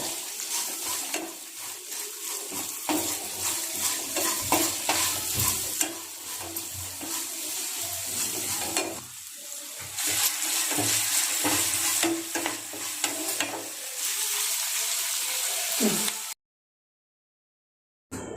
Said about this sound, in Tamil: வெங்காயம் பொன்னிறமாக வர வரைக்கும் நல்லா வதக்கி எடுத்துக்கோங்க.